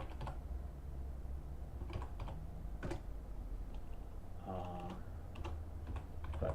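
Typing on a computer keyboard, a quiet run of light, irregular key clicks over steady low background hum, with a brief tonal sound partway through.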